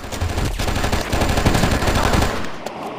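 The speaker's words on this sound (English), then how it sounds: "I know there's a firefight going in here" Rapid automatic gunfire in a video game firefight in Oni, dense, continuous bursts with overlapping shots, loud throughout and tapering off near the end.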